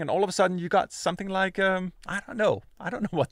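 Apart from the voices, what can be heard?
No everyday noises stand out.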